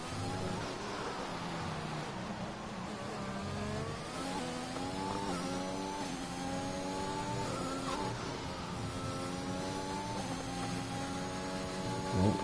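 Race car engine in a sim racing game at a Mexico circuit, a steady close drone whose harmonics climb and fall as revs shift, running continuously without a pause.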